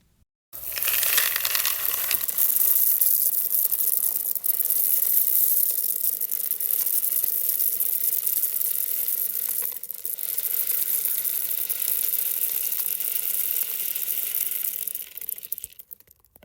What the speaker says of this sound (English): This is a bucket of our mosaic dry bean mix.